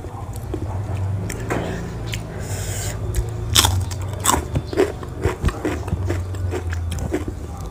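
Raw jengkol and petai being eaten: close, loud crunchy bites and wet chewing, with a few sharp crunches standing out over steady mouth noise, no talking.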